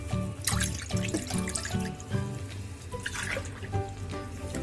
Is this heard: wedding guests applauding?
no